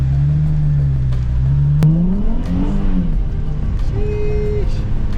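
A project car accelerates hard with the wheels breaking loose, the engine note climbing and revving in a loud, close pull with a sharp shift and rising whine.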